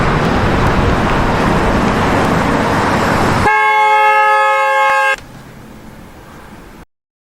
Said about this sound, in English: the truck comes up, its horn is blowing